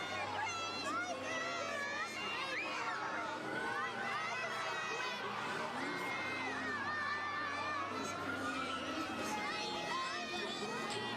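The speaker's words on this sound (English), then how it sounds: "Give them a big round of applause." A large crowd at a Santa Claus parade in Saskatoon cheers and whoops continuously, with children shouting and excited chatter forming a dense, sustained roar throughout.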